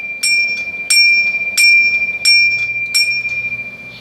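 A swinging bell, set up so it can also be rung by pulling a string, strikes five times at a steady, roughly two-thirds-second pace. Each loud, close strike leaves a bright, sustained ringing tone that carries between the hits.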